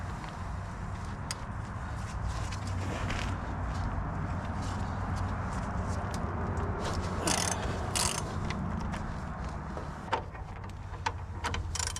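Ratchet wrench breaking loose and backing out 21 mm caliper bracket bolts on the front brakes of a 2000 Ford F350, a steady run of close mechanical clicking and grinding with a few sharper knocks, no talking.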